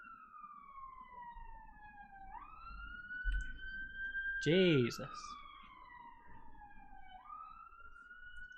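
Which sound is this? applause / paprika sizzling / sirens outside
sirens outside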